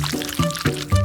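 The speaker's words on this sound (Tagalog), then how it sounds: "Ngayon, mayroon akong likidong tsokolate. Ibubuhos ko ito sa helmet." Liquid melted chocolate being poured into a helmet, with thick glugging pulses, about four in a second, close and fairly loud.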